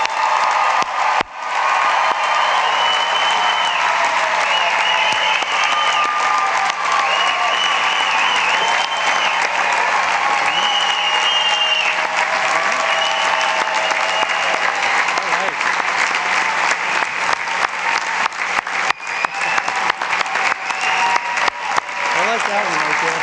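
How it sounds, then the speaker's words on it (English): Loud, sustained applause from a large audience honoring graduates at a university commencement, with some cheering and crowd noise mixed into the dense clapping throughout. "Please join me in giving all of our graduates a well-earned round of applause."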